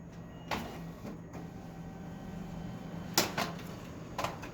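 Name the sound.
printer printing second side of 80-pound cardstock cover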